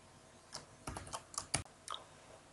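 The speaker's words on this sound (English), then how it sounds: "You can close the application by pressing Q on your keyboard" Several separate keystrokes on a computer keyboard, sharp close clicks spaced irregularly across a couple of seconds, with no talking.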